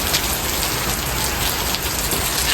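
Steady, dense rain falls outdoors, a continuous hiss of drops on surfaces with no voices.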